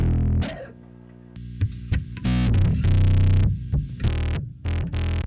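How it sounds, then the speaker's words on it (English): A heavily distorted, gritty synth or bass tone through a multi-band distortion plugin in Pro Tools plays in choppy bursts and sustained notes, with harsh saturated overtones and no talking. "Think about it as a sort of multi-band distortion."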